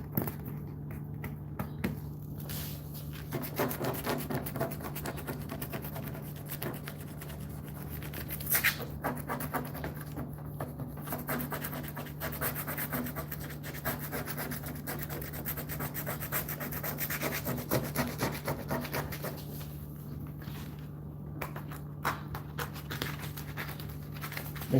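A fingernail steadily scrapes and rubs a peel-off coating off a surface, a continuous close, quiet rasping texture with brief pauses, over a constant low electrical hum.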